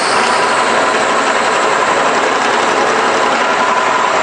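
A shop machine spinning steadily at about 1,000 RPM, a loud, continuous, even whirring drone that holds without change throughout, with no talking.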